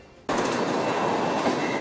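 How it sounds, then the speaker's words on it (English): A southbound train rolls slowly over railroad tracks at a city crossing, starting abruptly as a loud, steady wash of rumbling wheel noise that continues without talk. "A southbound train was slowly passing through 29th and Lowell"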